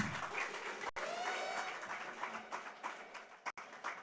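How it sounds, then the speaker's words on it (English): Audience applause at a corporate launch event for a mobile app, a steady wash of clapping from a crowd filling the whole stretch at moderate level. "Ladies and gentlemen, please, a round of applause"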